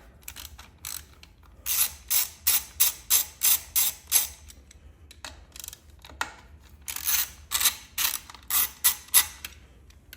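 A ratchet clicks in two quick runs of rhythmic strokes as bolts are loosened on the intake manifold of a 2023 Harley-Davidson FLHXS, close and crisp with quiet pauses between the bursts.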